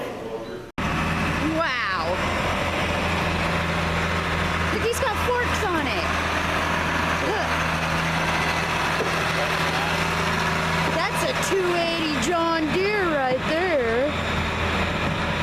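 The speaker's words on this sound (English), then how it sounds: "sounds like a diesel truck." A diesel truck engine idles steadily with a low rumble throughout, while people talk intermittently nearby.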